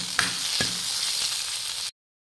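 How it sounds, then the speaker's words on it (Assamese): Pointed gourd (potol) frying in a pan in a home kitchen gives off a steady, close, broadband sizzle for about two seconds, with a couple of faint clinks near the start, before it cuts to silence. "এয়া ভাজিছোঁ পটল।"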